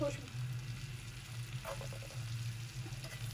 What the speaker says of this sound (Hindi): ये मैंने तड़का बनाया है मक्खन का, ऊपर से ये तड़का लगाएंगे।